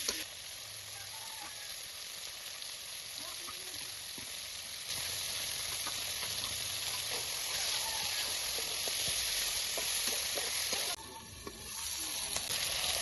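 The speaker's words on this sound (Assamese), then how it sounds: "মই আদা, নহৰু আৰু জলকীয়া খুন্দি লোৱা অলপমান দি লৈছোঁ আৰু তাৰপিছত ধুনীয়াকৈ ভাজি আছোঁ" Ginger, garlic and chili pieces fry with turmeric and salt in a hot pan, giving a steady, dense sizzle and hiss that runs unbroken and close throughout, with no talking.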